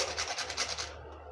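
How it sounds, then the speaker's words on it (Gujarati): Nutmeg rasped against a hand grater over a pot of boiling gundar rab, a brief, close, steady scraping that trails off at the end. "આ રીતે છીણીથી છીણી અને આપણે જાયફળ પાવડર મિક્સ કરી દઈશું।"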